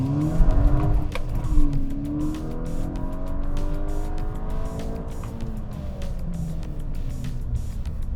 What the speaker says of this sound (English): a little too much wheel spin